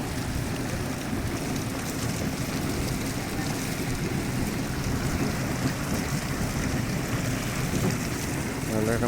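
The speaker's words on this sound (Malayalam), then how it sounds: "ഓട്ടോമാറ്റിക്കായിട്ട് വണ്ടി കഴുകുന്ന ടെക്നോളജിയാണ്" Water from an automatic car wash spraying onto a car from above, a dense continuous rushing drumming on the body and glass, heard from inside the vehicle.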